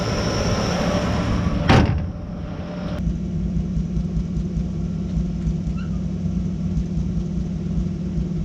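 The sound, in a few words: hood of a 1957 Chevy being shut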